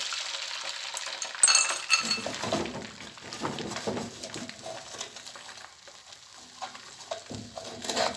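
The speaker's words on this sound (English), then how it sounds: "So I'm going to be going in with the egg mixture." An egg mixture hits hot vegetable oil in a frying pan, giving a soft steady sizzle with a few utensil scrapes and clinks near the start.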